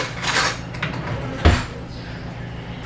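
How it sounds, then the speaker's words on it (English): A spoon is fetched in a home kitchen, with cutlery clinking and rattling up close, a drawer or cupboard sound, and a sharper knock midway. "let me get a spoon"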